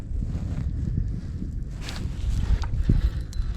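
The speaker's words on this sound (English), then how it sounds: "That wind is trying to drop just a little bit" Gusty wind blows outdoors on a lakeshore bank, buffeting the microphone with uneven low rumbling surges and a few faint knocks nearby.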